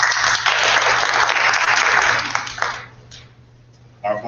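An audience claps steadily at a school white coat ceremony, a dense burst of applause lasting a few seconds before tapering off into quiet.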